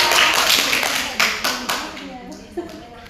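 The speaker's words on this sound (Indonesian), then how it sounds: "beri tepuk tangan kepada Tria" A class of schoolchildren in an Islamic religious lesson claps for a classmate: a burst of brisk, overlapping hand claps trails off into a few scattered, separate claps, with a voice faintly present underneath.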